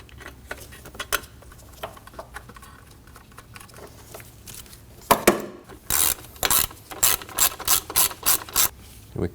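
A ratchet clicks in quick bursts while 10mm bolts on the belt cover of a 2003-2006 Subaru Baja 2.5L H4 are snugged down. Rapid, close-up ratcheting strokes grow louder and more rhythmic toward the end.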